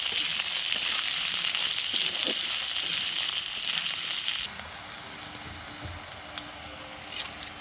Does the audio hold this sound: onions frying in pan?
yes